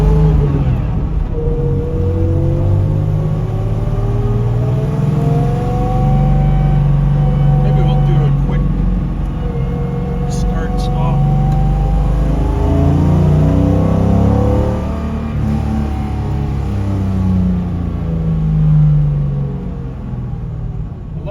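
A 1955 Mercedes-Benz 300SL Gullwing's engine rumbles and revs steadily while driving through Newport Beach, with rising and falling pitch, close and loud throughout, with someone talking over it.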